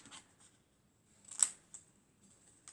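Scissors snip paper squares for a gift box album, with one crisp close cut standing out from a few fainter clicks and small handling sounds.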